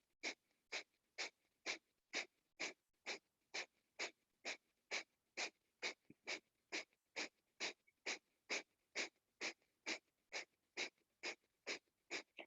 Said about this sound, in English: we do sharp, short breaths. It's a rapid fire.